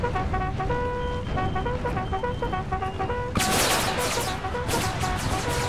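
Artillery fire erupts in an Empire: Total War mod battle. A dense burst of booming shots and crackling volleys hits partway through. Steady musical tones play underneath and carry through the barrage.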